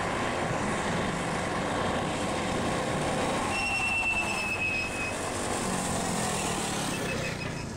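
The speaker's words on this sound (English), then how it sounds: "That squeal you hear is the rear brake on these bikes." The rear brake on a Baja Warrior mini bike with a torque converter gives a brief high, thin squeal midway through a loud, steady engine roar during a test run.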